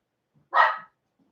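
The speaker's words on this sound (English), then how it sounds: "Dogs are going to bark." A single short dog bark, close and fairly loud, rising sharply and fading within about a third of a second against an otherwise quiet background.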